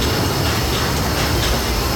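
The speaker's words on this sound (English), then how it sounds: "please remain seated until the train comes to a complete stop" Disneyland Railroad steam train rolling along the tracks, a loud, dense, continuous rumble of wheels and rail noise heard from on board, with no talk.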